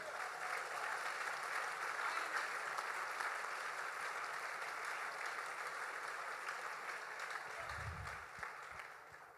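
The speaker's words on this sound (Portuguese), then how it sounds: "Aleluia, dá uma salva de palmas para Jesus aí." A church congregation applauds steadily and loudly throughout, a dense even wash of clapping that fades slightly near the end.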